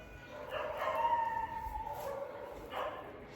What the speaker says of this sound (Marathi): कुत्रे आज बघ भुकते